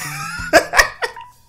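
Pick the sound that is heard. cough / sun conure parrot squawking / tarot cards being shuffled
cough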